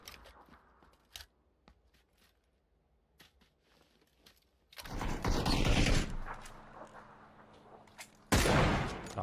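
Gunfire in the battle-royale game PUBG, two loud bursts of rapid shots, one running several seconds and a shorter one at the end, after a stretch of quiet faint game sounds.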